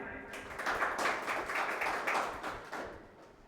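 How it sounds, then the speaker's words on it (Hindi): Scattered handclaps from an audience at a Hindi kavi sammelan poetry gathering, a soft, uneven patter of clapping lasting a few seconds with a voice speaking over it. "एक बार आप खुद के लिए ताली बजा लीजिए"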